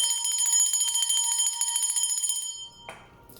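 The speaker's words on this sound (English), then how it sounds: "So I'm gonna ring the bell." A bell rings out bright and sustained with rapid repeated strikes, then stops abruptly, leaving a brief faint rustle.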